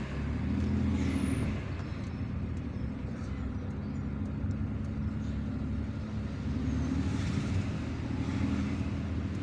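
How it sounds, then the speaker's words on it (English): Continuous engine drone and road rumble from a car creeping slowly through traffic in Kouba, Algiers, with steady surrounding vehicle noise and no voices. "So we are entering Kouba slowly. Traffic is always present here."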